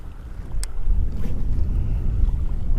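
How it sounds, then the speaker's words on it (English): Harsh wind blowing across open water during a spring bass fishing outing in Carolina, a steady low rushing roar buffeting the microphone, with one brief thin click early on and no talking. "The wind is a little harsh here."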